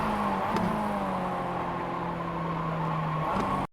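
A Mazda MX-5 engine in the iRacing game drones steadily through a corner, its pitch sinking slowly as the car rolls toward the apex, with brief blips as gears change and a voice talking over it.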